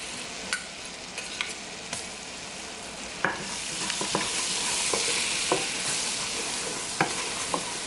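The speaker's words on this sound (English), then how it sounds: "Get that butter melting. I'm going to scrape those bits off the bottom." Butter melting and sizzling in a pot for broccoli soup, a soft steady fry with a spoon scraping and clinking against the bottom at irregular intervals, close and fairly quiet.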